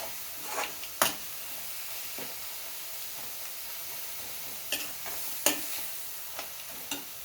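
A talimpu tempering for gongura pachadi crackles and sizzles steadily in a pan, with a few sharp scrapes and clinks of a spoon stirring it at intervals, close and moderately loud, no talking.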